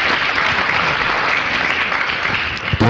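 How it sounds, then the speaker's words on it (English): Audience at a council presentation applauds with steady, dense hand clapping that stays loud and even throughout, with a slight swell near the end. "she ought to be celebrated with another hand clap of applause"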